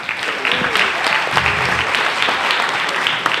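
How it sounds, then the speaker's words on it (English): A dinner crowd at a Little League state finals banquet in New Jersey breaks into a steady round of applause, dense clapping that holds even and fairly loud for the whole stretch. "And a round of applause for Bob Everett."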